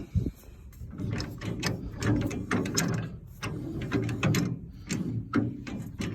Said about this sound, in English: now we're gonna tighten up the top link so that it is tight with the bush hog.